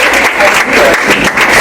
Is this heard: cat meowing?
no